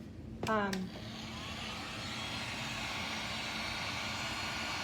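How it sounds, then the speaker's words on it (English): A heat gun dries engobe on a ceramic plate, a steady airy whoosh and hum that starts after a brief louder burst near the start and then runs evenly and close to the end. "But with the heat gun, you can pretty quickly"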